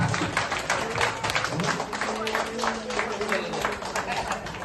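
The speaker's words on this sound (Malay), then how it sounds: "Tepuk tangan." An audience claps during a speech at a Down syndrome association gathering in Kelantan, a moderate, steady patter of applause with voices murmuring underneath.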